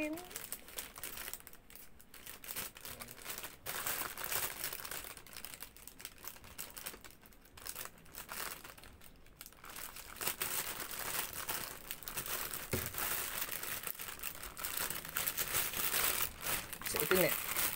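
Crinkly plastic package holding t-shirts being torn open and handled, continuous rustling and crackling throughout, loud and close, with a few brief pauses.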